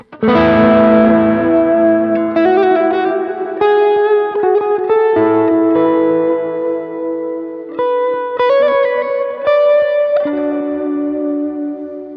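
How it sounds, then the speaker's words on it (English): Electric guitar with light crunch through a Boss Nextone Special amp plays slow, ringing notes and chords, washed in delay and reverb that let each note linger and overlap. "With some reverb as well."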